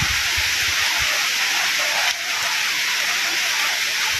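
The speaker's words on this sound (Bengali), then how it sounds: "মুসুলধারে বৃষ্টি আরম্ভ হয়েছে" Heavy downpour of rain pouring steadily as a dense, loud broadband hiss throughout, with a brief dip midway and a few low thumps early on.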